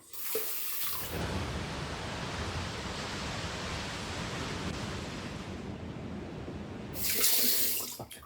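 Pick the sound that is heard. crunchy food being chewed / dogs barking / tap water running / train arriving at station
tap water running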